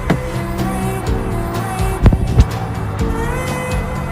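A child's BMW ride-on toy car drives with a steady electric motor hum and music-like tones, with two brief louder bumps midway.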